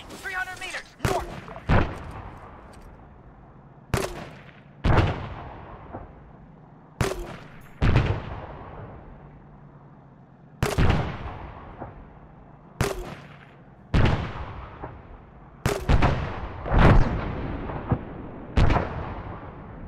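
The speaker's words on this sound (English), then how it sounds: "Team Red, open fire. Tank, 300 meters north." Gunfire and artillery aimed at a tank in a military combat game, a series of about a dozen loud sharp blasts with long rolling decays, spaced irregularly, with some voices between.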